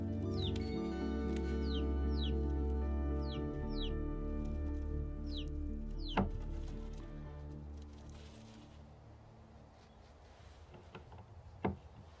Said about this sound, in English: A bantam hen.